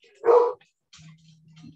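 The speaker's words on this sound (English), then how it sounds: "my dogs are freaking out" A few dogs bark close by, one loud burst of yapping followed by a quieter, lower whimpering tone, with no talk over them.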